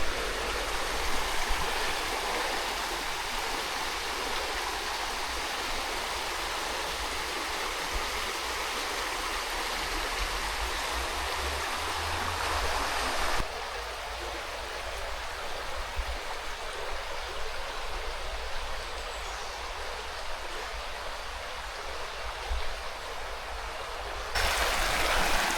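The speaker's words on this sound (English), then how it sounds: "The lovely sound of running water on a river." The River Rivelin near Sheffield rushes steadily over its bed on a hot summer day, a dense, continuous wash of running water heard close by with no voices.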